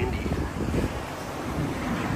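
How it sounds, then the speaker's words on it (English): Strong wind on a Sydney beach buffeting the microphone, a steady rough roar with gusty low rumbles and possible surf underneath, loud and continuous with no talking. "This is very windy."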